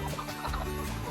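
Hens cluck on a farm, a short run of throaty clucks up close against busy background noise.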